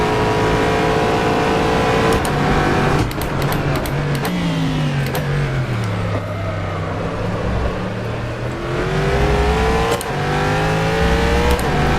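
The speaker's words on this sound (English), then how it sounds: "The car just sounds so powerful." Corvette C7.R GTE race car at Sebring in rFactor 2, its engine loud and close, rising and falling through shifts with sharp crackling bursts on upshifts and a dip in pitch under braking before accelerating again.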